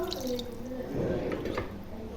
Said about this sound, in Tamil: ஒன்றரை டம்ளர் தண்ணி கறி வேகிறதுக்காக ஒன்றரை டம்ளர் தண்ணி இதில் ஊற்றிடலாம்